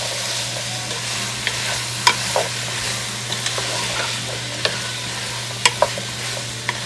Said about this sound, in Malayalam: നന്നായിട്ട് മിക്സ് ചെയ്ത് കൊടുക്കാം.